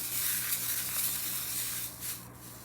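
Angel Blue Mix beads stirred together in a container, a continuous soft rattling hiss of small beads shifting for a couple of seconds, close and quiet, easing off near the end.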